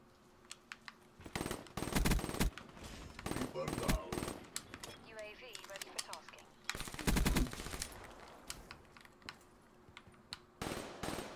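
Machine gun fire in Black Ops 3 comes in several loud rapid bursts separated by quieter gaps, with keyboard clicking and game sounds between them.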